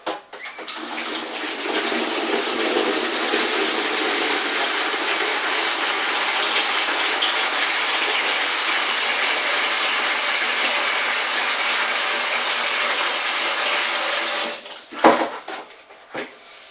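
Water pouring steadily into a pail for homebrewing a stout, a continuous loud rushing splash lasting about fourteen seconds before stopping with a few clunks of handling.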